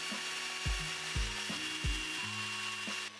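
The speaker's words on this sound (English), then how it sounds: "I can use a 4mm drill bit to remove the two rivet posts." A 4mm drill bit bores out the rivet posts on a Matchbox Saracen Personnel Carrier diecast model, a quiet, steady grinding whir broken by a few rhythmic dips and catches.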